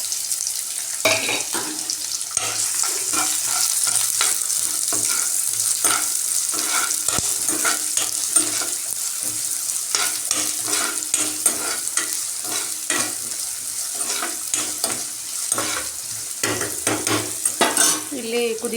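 Onions sizzling in a pan with cumin and mustard seeds, a continuous close hiss and crackle with frequent spatula stirs and scrapes, no talking.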